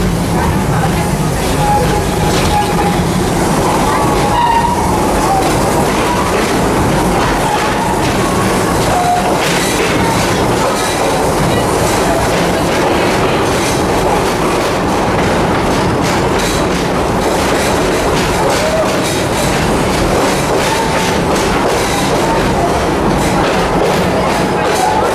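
A theme park ride train at Busch Gardens rumbles steadily along the rails with a continuous clickety-clack of wheels and a few faint squeals, loud and close throughout.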